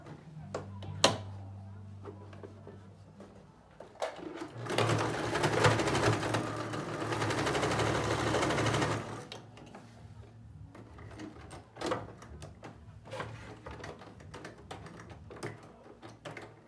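A sewing machine stitches shut the turning opening of a small fabric ladybug bag. A rapid mechanical whirring burst lasts about four seconds, with softer clicks and handling noises of the fabric before and after.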